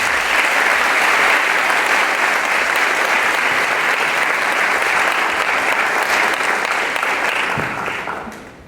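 Steady applause fills an audience hall at a 2021 valedictory prize-giving, dense clapping held at an even level throughout before tapering off at the very end.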